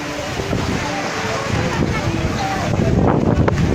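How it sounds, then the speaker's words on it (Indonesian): Strong west wind gusting across an outdoor wedding reception, a constant loud roaring rush with microphone buffeting that grows heavier toward the end, with faint voices beneath. "Angin barat bertiup angin barat."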